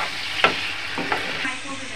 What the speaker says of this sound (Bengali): হলুদ দিয়ে দেবো, দিয়ে মশলাটাকে একটু ভালো করে কষে নেব।